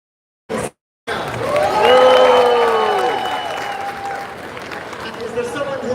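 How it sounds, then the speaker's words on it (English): Loud applause and cheering from an audience at a G77+China climate award ceremony, swelling after a brief gap and continuing steadily, with a voice over the crowd. "a loud applause?"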